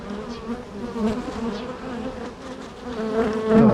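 Honey bees hum at a hive during frame inspection of a newly caught swarm, a continuous droning buzz close by that swells louder toward the end, with no talking.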